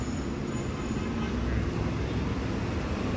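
Bus traffic rolling along the EDSA busway carousel beside a footbridge concourse: a steady, loud roadway roar with engine rumble and no distinct pauses, continuous throughout.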